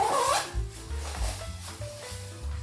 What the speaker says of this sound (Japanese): そしてフロントのジッパーを閉める。